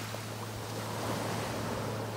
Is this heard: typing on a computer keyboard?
no